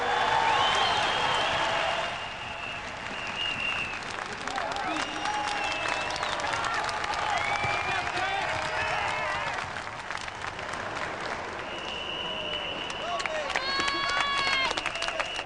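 Spectators packing a 2,000-seat velodrome at a world hour record attempt roar and applaud in a sustained, dense crowd noise that swells and subsides, with whistles and shouts rising through it and voices talking over the din.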